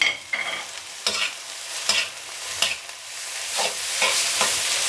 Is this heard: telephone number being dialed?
no